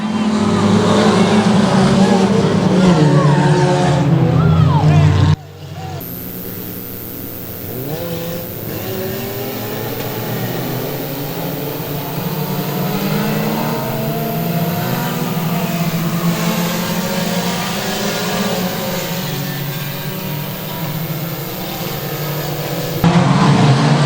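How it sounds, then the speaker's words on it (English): Four-cylinder race cars roar around Boothill Speedway during a main event restart, engines droning and revving loudly as the pack passes, with a commentator talking over the steady engine noise. "Brittany Graham gets a run on the restart down the back straight of your 4-cylinder main event"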